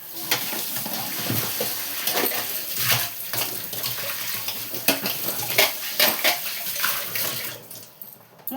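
A lid is set on a cooking pot in a home kitchen amid a flurry of metallic clinks and clatter from dishes and utensils, with running water in the background.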